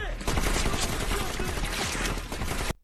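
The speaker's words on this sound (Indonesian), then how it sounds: "Pasukan Spetsnaz terus mengejar dan menembaki Dalton." Spetsnaz soldiers in a film chase a fleeing man and fire on him. The gunfire is a dense, continuous fusillade of rapid automatic shots, loud and close, that runs without a break for nearly three seconds.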